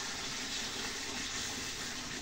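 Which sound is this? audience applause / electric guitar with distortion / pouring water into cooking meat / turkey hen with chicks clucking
pouring water into cooking meat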